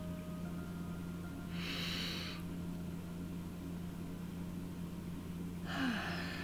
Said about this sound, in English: I'm going to take another deep, deep breath